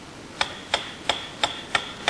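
A mechanical metronome ticks evenly about three times a second, each click sharp and clear against a quiet background, close and moderately loud, with no voices.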